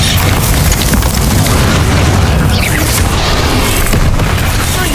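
Spell explosions from the video game Hogwarts Legacy boom in a dense, loud, continuous barrage, blasts and bursts layered over one another with no pause.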